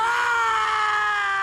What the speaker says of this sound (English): along with Catelyn's scream of defeat